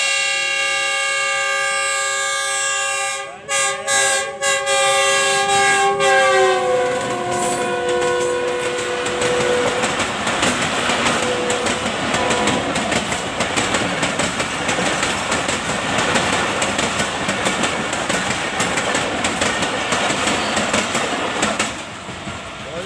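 A train horn blares at the start, then a loud train rumbles past close by, its wheels clattering steadily for a long stretch.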